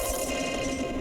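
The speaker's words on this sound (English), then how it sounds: "it'll give it this really cool disperser effect" Synth bass with a disperser phase effect and the reverb switched off, a steady, dense tone that holds for about a second with a smeared, phasey texture and no voice over it.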